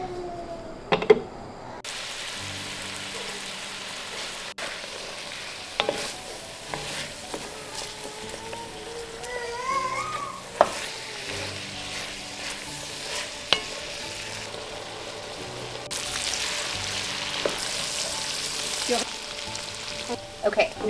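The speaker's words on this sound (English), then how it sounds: "once this bacon starts cooking, all of the fat's gonna be released, and then it's gonna cook our vegetables down" Bacon and chopped vegetables fry in a soup pot, giving a soft, steady sizzle broken by occasional scrapes and clunks of stirring, with brief quiet talk mixed in.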